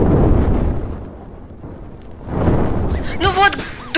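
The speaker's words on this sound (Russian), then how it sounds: "гром гремит, и земля трясется" Minecraft thunderstorm with rain, two rolling rumbles of thunder separated by a quieter lull, followed by a short voice at the end.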